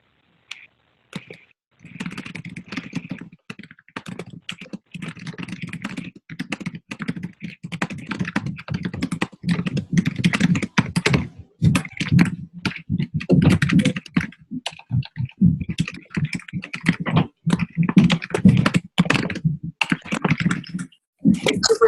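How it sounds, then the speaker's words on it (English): Rapid typing on a computer keyboard, a dense and continuous patter of close key clicks with brief pauses, loud and alone with no talking. "Super typer. You're going really fast there, Taryn."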